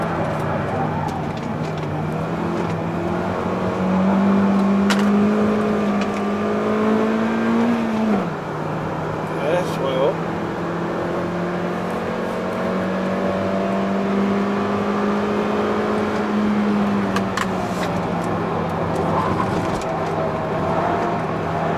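A Hyundai Avante MD coupe 2.0 manual engine drones steadily from inside the cabin on the Inje Speedium race track, pitch climbing under acceleration, dropping at a gear change, then climbing again, with occasional talk.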